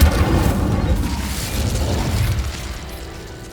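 A fire spell cast in the video game Hogwarts Legacy, a deep magical boom and crackling burst that hits loudly at once, then rumbles and fades slowly over a few seconds.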